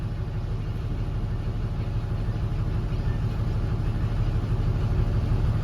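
Vehicle engines idle steadily in a traffic jam on a road in Surat, a continuous low rumble that swells slightly toward the end, with no voices.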